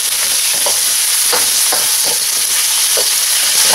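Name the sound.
calamari frying and being stirred in a pan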